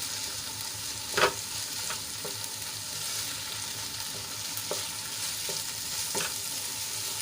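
Steady frying sizzle of boiled fenugreek leaves in oil, with a few distinct scraping clicks of stirring spread through, no voices, close and moderately loud.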